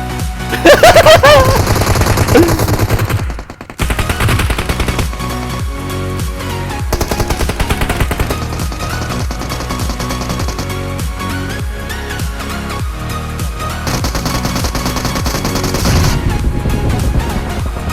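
Rapid bursts of automatic gunfire and booms from the video game PUBG Mobile, dense and loud throughout, with brief pauses between volleys.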